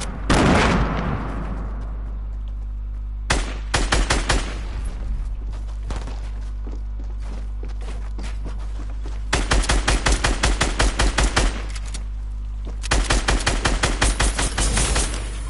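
Rapid automatic gunfire from an online squad shooter game crackles in loud bursts, with a long sustained volley at the start, then repeated short rattling strings, over a steady low game hum and no talking.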